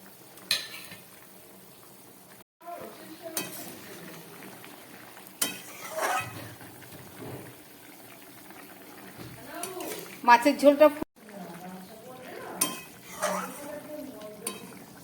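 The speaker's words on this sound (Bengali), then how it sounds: "এবার এর মধ্যে আমি ভেজে রাখা মাছগুলো দিয়ে দিচ্ছি।" Fried fish is added to a boiling vegetable fish curry with stalks, potato and cucumber. Clattering utensil knocks and soft bubbling come through with a nearby voice talking in between.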